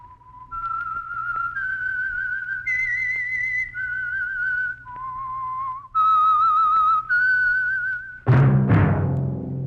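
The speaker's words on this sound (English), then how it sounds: "That whistle is your signal for the Signal Oil Program, The Whistler." A human whistled melody, the signature tune of the Signal Oil Program radio show The Whistler, with clear sustained notes stepping up and down in pitch, followed by a sudden loud musical chord at the end.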